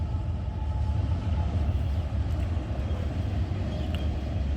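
A Norfolk Southern freight train passes on tracks in Vermilion, Ohio, heard as a steady, loud rumble and roar of rolling cars, continuous throughout with faint rail clatter and no voices.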